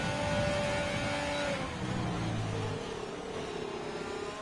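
An Alfa Romeo Formula 1 car in a racing video game at Baku, its engine note holding high then shifting down through gears and climbing again, loud and close throughout with no talk.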